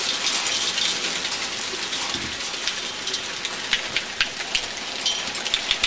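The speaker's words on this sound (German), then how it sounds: "Oh, jetzt hagelt." Hail falls during an April thunderstorm, a dense hiss of ice striking surfaces with sharper individual clicks and taps growing more distinct toward the end, steady and close, with no voices.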